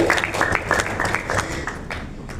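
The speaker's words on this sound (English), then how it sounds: "Give them a round of applause." An audience at a morning seminar session gives a round of applause. The separate claps are loud and fairly rhythmic, with a few voices mixed in, and the clapping thins out toward the end.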